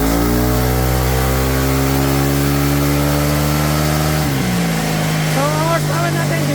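A remapped vehicle engine with a CVT revs hard on a dyno, a loud sustained mechanical drone with steady harmonics that drops in pitch near the end as it winds down, then fades to lower rumble.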